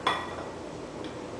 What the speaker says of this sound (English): I'm just going to mix all of these ingredients together, just like this